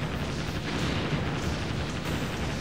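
Main cannons of a warship boom in the naval combat video game Naval Ops: Warship Gunner 2, a dense, continuous roar of blasts and rumble with no voices over it.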